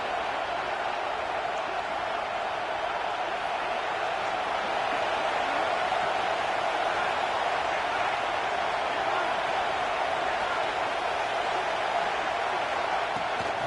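A steady roar of a large video game stadium crowd at a college football game, cheering and murmuring continuously at a constant high level.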